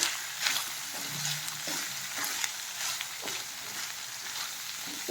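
Dried fish sizzles in oil with mustard seeds, a quiet crackling fry with soft stirring scrapes and small pops, close and steady, with no talk.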